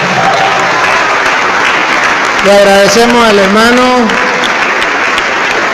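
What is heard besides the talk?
audience applause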